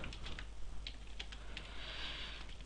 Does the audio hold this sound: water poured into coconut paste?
no